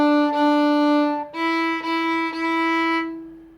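A solo violin plays measure 7 of Lightly Row, four clear bowed notes with brief gaps between them, close and alone.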